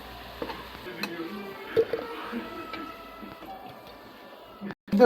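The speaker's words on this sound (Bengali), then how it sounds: "আলুগুলো ভালো করে লাল লাল করে ভাজা হচ্ছে।" Potatoes frying in hot oil until reddish-brown, a steady faint sizzle with light crackles and a few soft stirring knocks, no talk.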